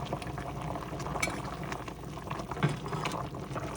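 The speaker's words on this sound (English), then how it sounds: "I'm going to add a little bit of fish sauce in there." Pink salmon soup bubbles at a soft boil as fish sauce goes in, a faint continuous simmering gurgle with light clinks, no speech.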